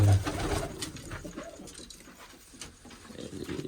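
A pigeon coos softly nearby, a few low throaty calls amid faint rustling and background noise.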